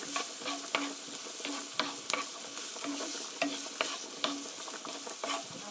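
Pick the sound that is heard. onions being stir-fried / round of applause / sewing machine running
onions being stir-fried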